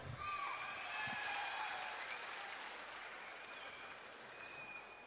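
A large audience at a big comedy event in Haryana bursts into loud, sustained applause that swells early and holds steady as a dense wash of claps, heard from a distance with no talking over it.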